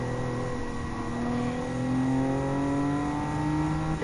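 A Subaru WRX Coupe Type R STI version 5 racing car's engine climbs steadily in pitch under acceleration while overtaking a Toyota GR Yaris in Gran Turismo 7, close and continuous with other cars' whine behind it.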